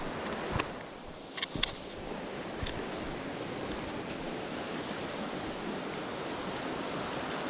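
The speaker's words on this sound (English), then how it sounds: "There's a big branch just getting dunked into the water here and it keeps going upwards and down as it's swaying in the water" The River Wansbeck rushes and churns around a big branch dunking and swaying in its current, a steady close wash of flowing water with a few brief splashy knocks early on.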